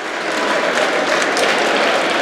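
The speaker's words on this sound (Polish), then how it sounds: "oklaskują tutaj Michała Woźnicę" Ice hockey fans in Katowice applaud an injured player during a GKS Katowice versus GKS Tychy match, a dense, steady wash of clapping filling the arena at full volume for the whole stretch.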